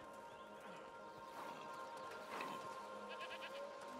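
Goats bleat a few times at a distance in the video game A Plague Tale: Requiem, over a quiet outdoor background, with faint clopping and rustling.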